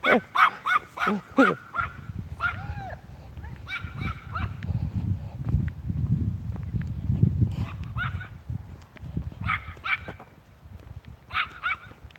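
A small dog lets out a quick burst of sharp, high barks and yips, then barks again in short bursts over a low, steady rumble. Faint voices can be heard in the background.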